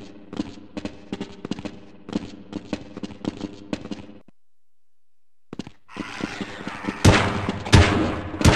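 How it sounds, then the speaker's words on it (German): Gunfire in the Half-Life PC game: a rapid series of sharp shots over about four seconds, a brief silence, then louder, denser firing with heavy booming impacts near the end, with no talking. "Hast du den Schuss gesehen?"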